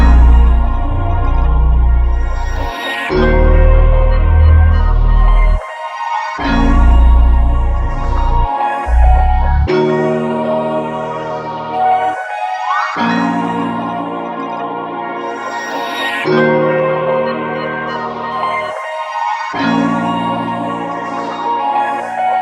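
A dark loop of synth and real instrument samples made in FL Studio plays in repeating bars, with brief drops to near silence between phrases and a steady, fairly loud level.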